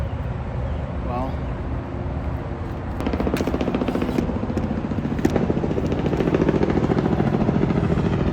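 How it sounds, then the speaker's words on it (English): A helicopter passes over an industrial wasteland at night, its rotor chop building from a distant hum into a steady rapid beating that grows louder, with a voice talking over it. "It's that helicopter guy."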